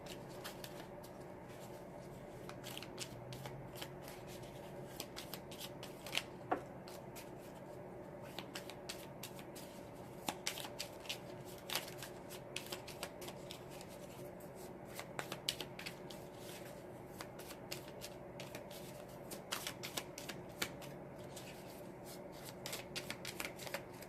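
Tarot cards are shuffled by hand in a quiet room, a steady run of soft crisp riffles and flicks continuing with no talking.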